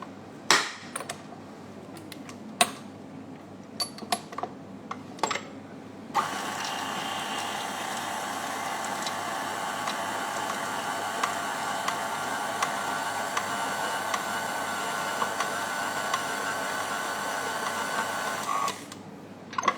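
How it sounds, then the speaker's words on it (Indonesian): An electric mixer blends cookie dough with raisins, giving a steady, even whirring drone for most of the stretch after a few scattered clicks and knocks, then stopping abruptly near the end. "Ini di mixer lagi sebentar sampai dia tercampur rata aja udah."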